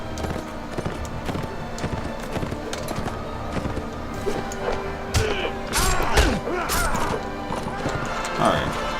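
Horse hooves drum in a rapid, uneven gallop in the Mount & Blade game, mixed with thuds and clatter as the rider bumps through a crowd, a busy mix of overlapping noise with a voice talking over it.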